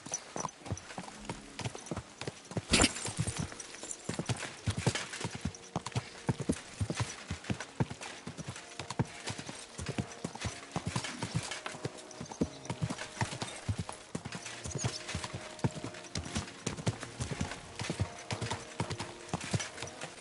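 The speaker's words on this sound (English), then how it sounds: "what a beautiful horse" Horse hooves clip-clop in a steady, continuous rhythm, fairly close and moderately loud, with no talking.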